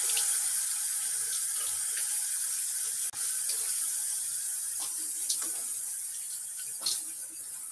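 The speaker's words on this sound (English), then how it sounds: "Let me get my face wet, and then we'll load up." A bathroom tap runs steadily into a sink as a face is wetted before a wet shave, a close, continuous hiss broken by small splashes and one brief interruption midway.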